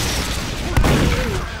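Bursts of gunfire in the Team Fortress 2 video game, a sharp loud volley near the middle over a constant busy game din.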